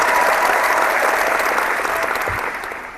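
A crowd bursts into steady, dense clapping that holds for a few seconds and then tapers off toward the end.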